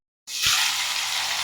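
Prawn malai curry frying in a pan, a sudden loud sizzle bursting in after a moment of silence and holding steady, close and alone.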